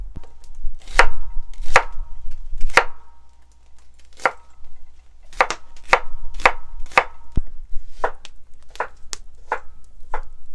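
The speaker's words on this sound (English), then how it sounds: "let's cut up an onion" An onion chopped on a board, a run of about fifteen crisp, close knife strikes in uneven clusters with brief pauses, no talking.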